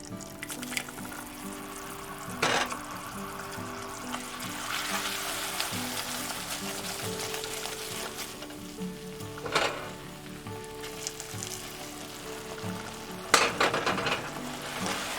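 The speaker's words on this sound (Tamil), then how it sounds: "இந்த ஸ்டேஜில் நம்ம சக்கரை பாகை கொஞ்சம் கொஞ்சமாக சேர்த்து கலந்து விட்டுட்டே இருக்கலாம்" Sugar syrup trickled gradually into besan roasting in a pan for halwa, with steady sizzling and frying under repeated stirring scrapes, a few louder clattering strokes punctuating the bubbling.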